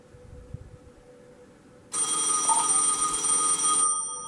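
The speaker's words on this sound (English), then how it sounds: "So when it rings, I'm going to have to hit the mute button on this because this thing is so loud you'll never hear this ring." An Automatic Electric pay phone bell rings loudly, a bright rattling ring that starts suddenly after a quiet lead-in and keeps sounding for about two seconds before cutting off.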